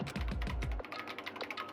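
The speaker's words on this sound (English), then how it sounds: "Kyoko's fingers glided across the keyboard" Rapid computer keyboard typing from the video game Danganronpa clatters in a quick burst of close keystrokes, then trails off into lighter, sparser taps.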